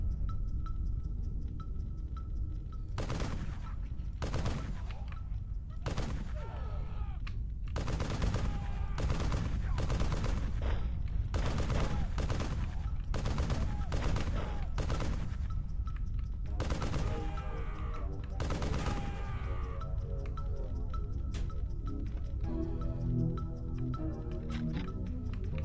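An M1919 Browning machine gun fires in the video game Turok as a series of loud, sharp bursts and single shots spread across the clip, with gameplay sounds between them and a faint voice.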